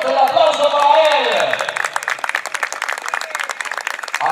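Audience clapping and some cheering at a youth football tournament final award ceremony for the third-place team, starting under a voice and continuing as rapid, scattered claps.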